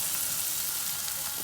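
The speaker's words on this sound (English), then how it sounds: "So I left the onions to saute for 10 minutes." Baby onions, or shallots, sautéing in a pan give off a steady, soft hissing sizzle close up, with no voices.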